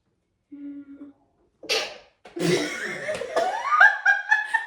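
A short, sharp sneeze bursts out after a brief vocal sound, then giggling and snickering laughter follows, close and clear.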